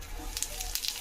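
Cumin seeds hit hot oil with bay leaves in a home kitchen, giving a brief, close, crackling sizzle with sharp pops.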